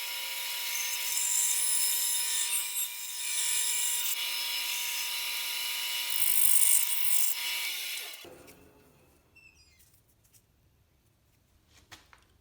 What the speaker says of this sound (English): Now I got to cut a wedge